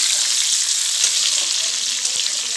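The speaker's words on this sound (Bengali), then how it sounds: "আর এই কড়াইতে ফুলকপিটা ভাজছি।" Cauliflower fries in a wok with a loud, dense, unbroken sizzle, close and steady from start to finish, with a faint stir or tap partway through.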